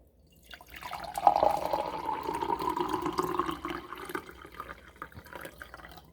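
Hot water pours into a mug in a kitchen, a soft continuous splashing trickle lasting several seconds that rises then tapers off, heard alone and fairly quiet.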